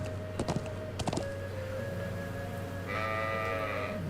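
Sheep bleating in the video game The Legend of Heroes: Trails of Cold Steel, a few short bleats over steady game music with tonal chimes, clear and fairly close.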